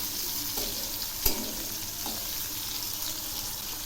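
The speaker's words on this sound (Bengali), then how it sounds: "এই মাছগুলো হালকা করে ভেজে নেব।" Shrimp coated in turmeric and salt fry in mustard oil with a constant sizzle and occasional stirring scrapes, plus one sharp utensil clack near the middle.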